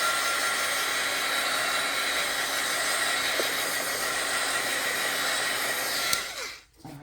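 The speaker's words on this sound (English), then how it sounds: "let's go ahead and hit it quick with the dryer" A small handheld craft dryer blows on paint with a steady, loud whooshing whir for several seconds, then clicks off and winds down.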